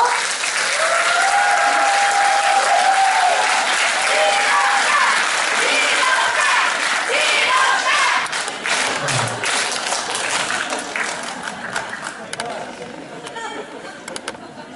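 Warm applause from an audience welcoming Venerable Jinho, a running monk, at a book concert, loud and sustained at first and then thinning into scattered claps, with voices and crowd murmur mixed in.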